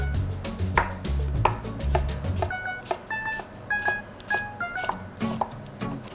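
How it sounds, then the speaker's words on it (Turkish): A knife chops an apple repeatedly on a cutting board, a series of crisp, evenly spaced taps at close range, with some low background noise early on. "Şöyle elmamızı doğradık"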